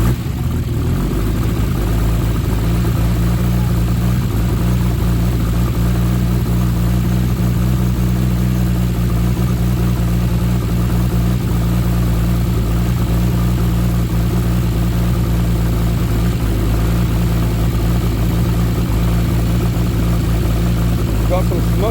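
A Nissan R33 Skyline's freshly built forged engine idles steadily after its first start, a low, even hum throughout, while people talk over it.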